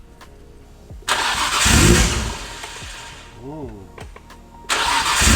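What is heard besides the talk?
Nissan R34 GTR engine starting for the first time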